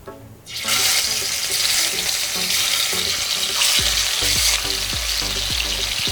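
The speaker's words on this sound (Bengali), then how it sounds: "এবার সেম তেলেই আমি ভেজে নেব মাছের মুইঠাগুলোকে।" Fish muitha dumplings made from vetki fish dropped into hot oil in a kadai, sizzling loudly and steadily with bubbling crackle and a few clinks of a spoon or ladle, no talk.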